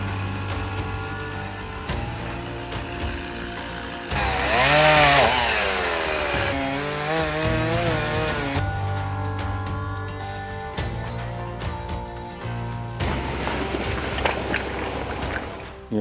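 A Can-Am Defender utility vehicle's engine running close by, a loud buzzing drone that revs up and falls back with shifting pitch, then settles into a steady idle, with no talking.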